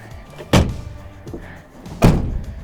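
GMC Sierra 1500 AT4 MultiPro tailgate panel lifted by hand, giving two distinct hollow thunks about a second and a half apart, close and moderately loud, with faint handling noise between them.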